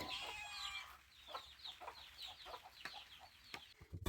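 Farmyard hens cluck softly while walking with their chicks, with a series of short repeated clucks and thin high peeps. The sound is fairly quiet and close, with a sharper knock near the end.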